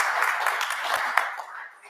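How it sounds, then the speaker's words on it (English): A brief round of audience clapping at a school district board meeting, moderately close, tapering off within two seconds. "You can give them a quick clap right there."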